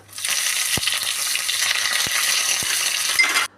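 Curry leaves tossed into hot oil with mustard seeds for kalan, an Onam dish, give a loud, close, steady hissing sizzle with a few sharp pops, cutting off abruptly at the end.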